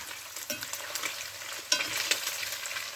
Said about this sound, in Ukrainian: Леся Петрівна, велика ложка. Помішаємо.